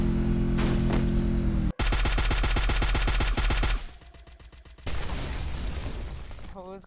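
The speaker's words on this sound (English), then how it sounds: "My airstrikes!" Airstrikes in a video game, loud rapid rattling bursts with heavy impacts and booms, then a shorter rumbling wave after a brief lull.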